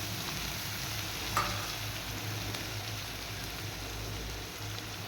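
Ginger paste and spices frying together in a pan over a low gas flame, a soft steady sizzle and crackle, fairly quiet and close, with one brief tap partway through.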